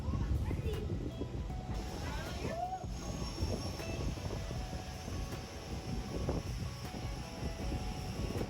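A low rumbling London train ride with rattling and a few odd squeals and whines rising over the steady rolling noise, voices faint underneath.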